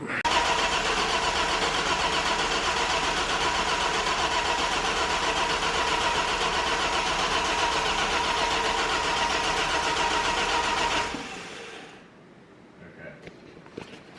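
A BMW E30 engine, primed twice, cranks and runs loudly and continuously for about eleven seconds, then cuts off, leaving faint clicks and rustling.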